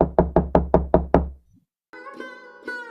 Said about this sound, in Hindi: सुखीलाल के आलीशान घर का दरवाजा खटखटाती है।